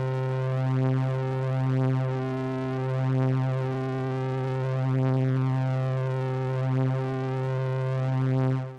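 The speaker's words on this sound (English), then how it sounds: "let's add some flutter to the sound" A lo-fi saw wave synth with a pitch flutter effect holds a steady, buzzy tone that wobbles gently in pitch, looping softly and alone for several seconds.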